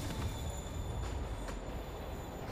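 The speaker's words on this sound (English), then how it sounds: "train's moving" A train rolls along the rails in a Spider-Man versus Taskmaster game, giving a steady loud rumble with a high wheel squeal running through it. Faint clacks come at intervals, and no one speaks.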